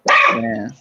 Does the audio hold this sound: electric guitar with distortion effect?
no